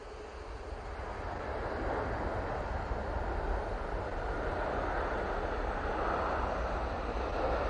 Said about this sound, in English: I can hear the Virgin Atlantic before I can see it